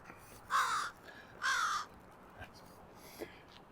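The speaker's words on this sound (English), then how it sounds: "You the same crow that was having words at me earlier?" A crow caws twice near Wascana Lake, two loud harsh calls about a second apart, followed by softer distant sounds and quiet outdoor ambience.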